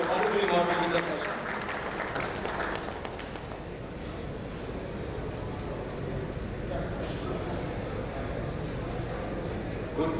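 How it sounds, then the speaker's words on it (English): Audience applause for a session moderator fills a hall at the India Insurance Summit, sustained and moderately loud, with voices murmuring underneath throughout. "Big round of applause for Zeenat ji for wonderfully moderating the session."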